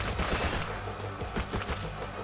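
Dense, continuous gunfire from the arena shooter Hypergun. Rapid shots blur into a loud, steady fusillade with close, punchy bursts and no talking.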